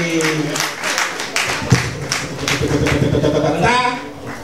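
Audience applause at a women's slam poetry final, honoring the 2016 Slam Lady, with steady clapping throughout and voices talking and cheering over it.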